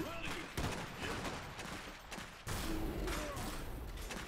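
Anti-armor guns firing in the Iron Harvest strategy game, a dense, continuous battle din of repeated heavy shots and bursts with loud blasts near the middle, all at steady high intensity.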